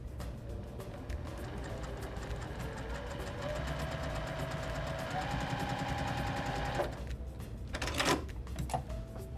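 A sewing machine hums and whirs steadily at moderate volume while joining quilt binding strips, then stops, followed by a few short clicks and taps.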